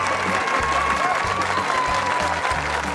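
Steady, dense applause from a crowd cheering on a team at a celebrity farming competition show, with rhythmic background music running beneath the clapping throughout.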